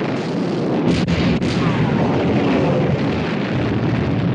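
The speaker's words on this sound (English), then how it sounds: "All turrets ready to open fire, sir. Open fire! Fire!" Heavy naval gunfire from battleship turrets in a 1960 war film battle scene, a dense continuous roar of blasts with a couple of sharper booms standing out near the start, loud and sustained throughout.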